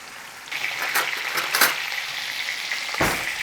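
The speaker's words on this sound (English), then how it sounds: "And we want to sear this meat, dark sear." Meat sears in a hot pan, a steady close sizzle with crackling bursts and spitting pops of fat throughout, no talking over it.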